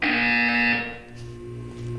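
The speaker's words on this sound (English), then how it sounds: "When you hear the buzzer, look up at the ceiling." A loud, steady electronic buzzer from the video game Portal 2 drones for almost a second, then cuts off and leaves a low hum in the background.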